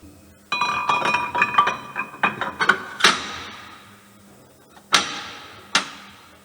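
A metal cylinder liner clinks and knocks as it's fitted into an OM 471 engine block from a Mercedes Actros 1845, a cluster of bright rapid clinks followed by two sharp isolated strikes with ringing decay.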